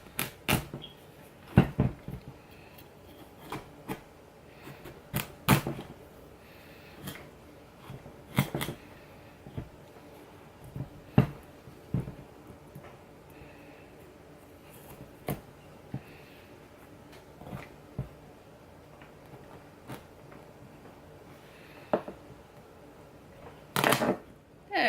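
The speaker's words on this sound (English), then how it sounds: "now we're gonna cut it in half this way and do the same thing" A knife cuts a pumpkin in half while making pumpkin pie from scratch, giving scattered close, quiet knocks and crunching taps at irregular intervals with no talking.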